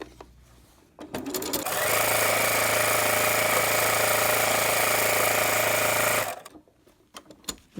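A sewing machine stitching a baby burp cloth runs in one steady loud burst of about four seconds, with its fast rhythmic whir, starting and stopping amid quieter handling noises.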